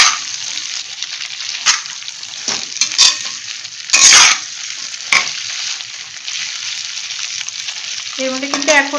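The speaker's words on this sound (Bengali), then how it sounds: "ভেন্ডিটা দিয়ে গ্যাসটা অল্প একটুখানি বাড়িয়ে দিতে হবে, দিয়ে ভালো করে নেড়ে দিতে হবে" Okra fries in hot oil while being stirred in a pan on a gas stove, a loud continuous sizzle broken by repeated spatula scrapes and one bigger burst of stirring midway.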